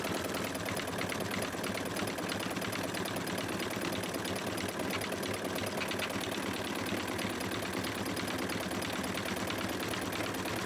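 An embroidery machine sews a reinforcing double stitch on a face mask design at a little under half speed, giving a steady, dense mechanical whirr that runs without break for the whole stretch, close and alone.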